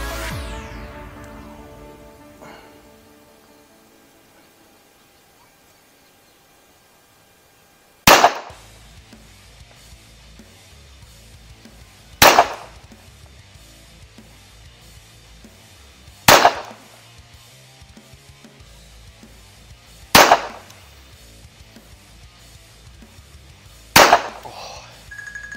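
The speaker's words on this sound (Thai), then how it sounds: "พร้อมยิงครับเล็งที่บริเวณสะดือนะฮะ" A gun loaded with NRC ammunition fires five sharp, loud reports, each spaced roughly four seconds apart over a low, steady background hum.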